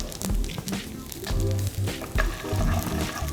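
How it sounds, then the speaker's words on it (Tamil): Dried red chilies sautéing in hot oil for a tempering, a close, steady sizzle and crackle with occasional spoon scrapes against the pan. "காஞ்ச மிளகா இந்த மிளகா எண்ணெயோடு நல்லா வதங்கணும்"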